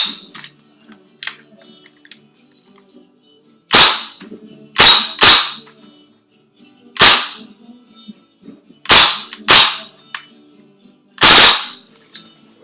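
An SRC MP5 airsoft gun fires single sharp, loud cracks, spaced irregularly and sometimes in quick pairs, against a quiet background with faint handling clicks between shots.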